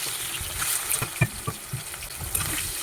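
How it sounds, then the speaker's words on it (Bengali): Paneer pieces rubbed with salt and turmeric frying in hot oil in a home kitchen, a soft, steady sizzle and bubbling with a few sharper pops and crackles, close and moderately loud, with no talking. "তারপরে গরম তেলের মধ্যে ছেড়ে দেবো পনিরের টুকরোগুলো।"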